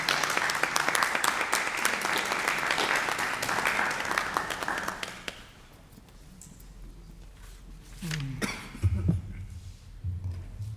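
Applause from an audience at a storytelling event on African immigration, a dense wash of clapping that fills the first five seconds and then fades to scattered claps and room noise, with faint voices near the end.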